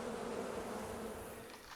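Honeybees swarm at a beehive during feeding season, a steady, close, continuous buzzing drone with no pauses and no other sounds.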